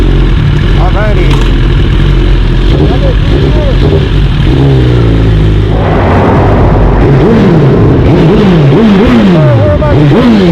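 A tuned Suzuki GSXR1000 with a full exhaust revs loudly and repeatedly up close, its pitch sweeping up and down through the ride, with voices talking over it.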